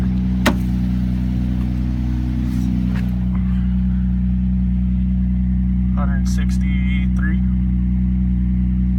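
A 1993 Ford Ranger with a 4-liter engine and very high mileage, needing a new motor, idles steadily after a cold start with a constant low rumble; someone talks briefly over it.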